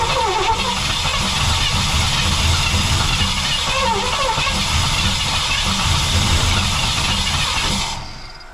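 A 1959 or 1960 Pontiac Bonneville convertible, a long-stored barn find, cranks and churns steadily at close range as it tries to fire, the rough mechanical turning continuing for several seconds before cutting off.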